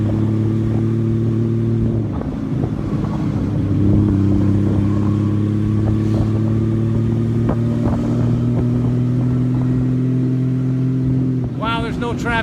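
Motorcycle engine running steadily in Tokyo street traffic, a loud near drone with shifting pitch and passing traffic around it, with a voice speaking over part of it.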